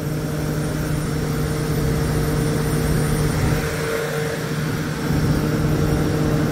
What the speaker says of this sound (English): I'm going to test this motor